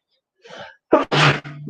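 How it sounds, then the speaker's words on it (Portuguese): A single sneeze close to the microphone, a sharp sudden burst after a brief breathy intake, ending with a short vocal trail. "Desculpa, pessoal, espirro."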